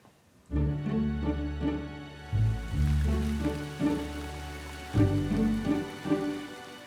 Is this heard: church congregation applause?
no